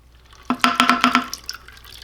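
Water drips and splashes out of a fire-damaged Predator 670cc engine from a Yerf Dog Spiderbox after the side cover bolts are loosened during a teardown. About seven quick, close, bright drops fall in a rapid series, then a few fainter ones follow, with no speech.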